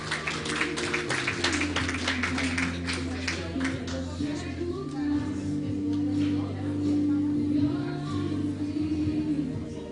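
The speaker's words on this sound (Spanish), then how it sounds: "Un aplauso fuerte a los ujieres." A church congregation applauds its ushers, scattered clapping early on under a loud, reverberant voice and a steady background hum, with no talk clear of the sound.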